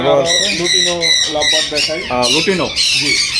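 Pet birds in a bird shop in Bangladesh squawk loudly and repeatedly, with close, harsh calls overlapping in quick bursts and no gap in the noise.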